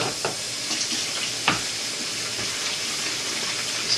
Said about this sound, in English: now we gotta fill up the containers with water